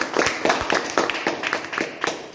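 Audience applause at a motivational talk, a crowd clapping in a steady rhythmic patter of hand claps that fills the room throughout without fading.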